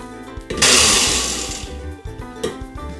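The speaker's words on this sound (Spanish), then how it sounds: "Y empezamos a licuar." A kitchen blender whirs loud and steady for about a second as it blends tomatoes and chiles into a red salsa, then cuts out, followed by a short second burst near the end.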